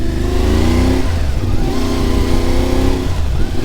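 A CF Moto 450 cc motorcycle engine revs hard and close, the pitch rising and falling in two long surges with a steady loud drone throughout.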